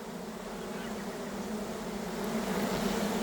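Honey bees buzz around an open hive during a spring inspection, a soft, steady drone with a low hum that swells slightly toward the end, with no voices.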